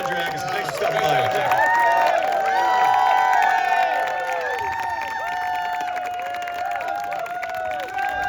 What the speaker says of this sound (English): Round of applause for Andre Agassi.